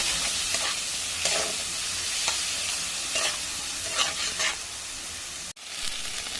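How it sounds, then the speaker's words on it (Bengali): Ginger, cumin, garlic and chilli paste fry with browned onions in a pan while cooking eggs, a steady loud sizzle with periodic stirring scrapes and a brief dropout near the end. "এবার আমি দিয়ে দিচ্ছি মশলা এবার আদা জিরে রসুন আর লঙ্কা"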